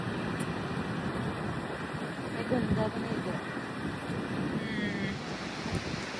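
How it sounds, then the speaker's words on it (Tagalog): Strong wind buffets the microphone in a constant roar, with surf washing in the background at Carmona Beach in India, an open shoreline. "Sobrang hangin, guys."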